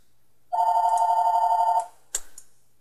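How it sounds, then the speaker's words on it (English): A telephone rings once in a steady electronic trill lasting over a second, loud and close, followed by a short clack of a second sound; no talk. "The phone! It is ringing."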